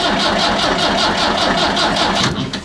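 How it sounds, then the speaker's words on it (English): A Massey tractor engine cranks over under load from the hydraulics, giving a steady, loud, rhythmic churning close by that labours throughout and falters near the end. "the engine was straining trying to run the hydraulics while I was turning it over"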